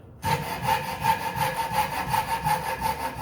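Steady back-and-forth strokes of a hand saw through timber for a roof truss, rhythmic and close, with a regular rasping cycle throughout.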